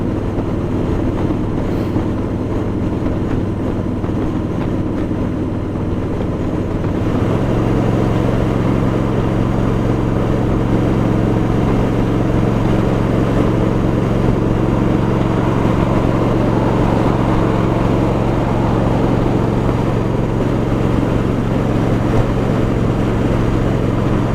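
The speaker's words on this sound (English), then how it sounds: "I don't know how some of these people deal with this exhaust sound on some of those bikes." Steady, loud motorcycle exhaust drone heard from the rider's position on a road trip to Dayton, mixed with wind rush and road noise, continuous with no talk and a slight rise in intensity after the first few seconds.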